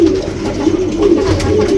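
A pigeon from a kept collection coos repeatedly and close by, a low throaty burbling in a steady rhythm, with faint background noise and no talk.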